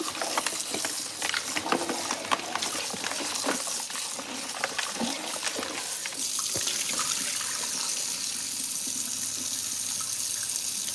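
Tap water runs steadily into a kitchen sink while goat meat is rinsed, with continuous splashing and patter that shift slightly as the meat is moved, close and fairly loud throughout.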